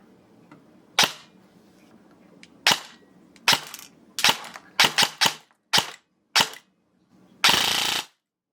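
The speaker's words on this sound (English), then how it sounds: "Finally, it's time to test fire." An ICS Hera Arms CQR airsoft electric rifle fitted with a Gate Titan II mosfet test fires in sharp, snappy single shots, some spaced and some in quick pairs, ending in a brief full-auto burst, all close and clear against a quiet room.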